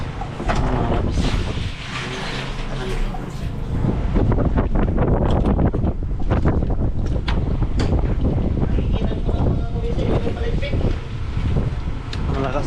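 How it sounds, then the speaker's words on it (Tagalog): Very strong wind roars and buffets across the microphone in steady, gusting waves, with voices talking throughout. "Ang lakas-lakas na hangin ito mga kabisig."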